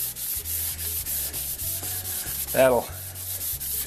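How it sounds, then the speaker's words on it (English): Fine 600-grit wet or dry sandpaper rubs back and forth over the steel blade of a Shapleigh Diamond Edge backsaw in a quick, even rhythm of close, hissing strokes, with a single brief word spoken near the end. "I'm going over the saw blade and the back with 600 grit wet or dry sandpaper."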